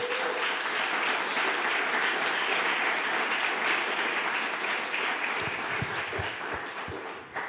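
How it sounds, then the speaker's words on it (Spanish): Sustained applause from a church congregation fills the room for several seconds, dense and steady, then thins out toward the end. "¿Le da un fuerte aplauso al Señor por ello, mi hermano?"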